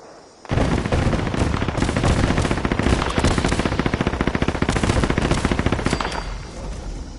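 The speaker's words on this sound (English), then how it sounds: "Get the gas mini gun out, see what that does." A gas minigun in Fallout 76 fires in one long, loud, continuous burst of rapid shots. It starts abruptly, holds a steady heavy rattle for about six seconds, then fades as the firing stops.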